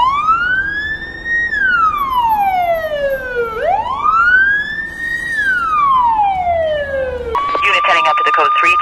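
A loud police car siren wails up and down in long sweeping rises and falls, close by, then switches to a steadier high tone at the end.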